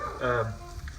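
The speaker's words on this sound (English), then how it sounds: "I'm cooking right now a frozen patty" A frozen patty sizzles as it fries in a pan, a short burst of close, crackling hiss with a brief tonal voice-like sound near the start.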